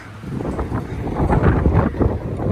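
Strong wind buffets the microphone in rumbling, uneven gusts on the windy side of a mountain trail on Ifach near Calpe, swelling louder toward the middle and end.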